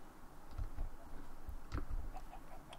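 Chickens cluck in the video game Minecraft: a handful of short, soft clucks scattered over a low steady background, with no one talking.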